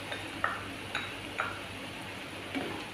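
A spoon stirs chewy kikil cow skin with sweet soy sauce and oyster sauce in a pan, giving a few soft, evenly spaced scrapes and clinks over a low simmering hiss, near and fairly quiet.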